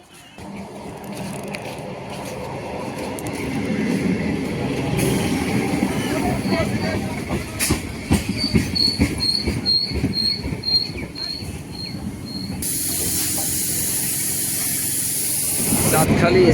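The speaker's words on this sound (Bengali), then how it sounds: "বলতে বলতে ট্রেনটা প্ল্যাটফর্মে প্রবেশ করলো আর আমি উঠে পড়বো এই ট্রেনটায়।" A train rolls into a station platform, loud and close, with rumbling wheels, rhythmic clacking over rail joints and a rising squeal of brakes near the end.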